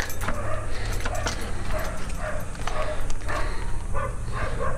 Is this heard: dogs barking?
yes